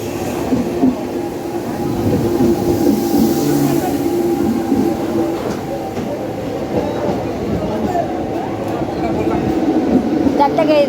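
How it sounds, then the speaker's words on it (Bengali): A train pulling into a station rumbles loudly and steadily, with wheel and rail clatter running throughout and people talking nearby. "এই যে আমাদের ট্রেন চলে এসেছে"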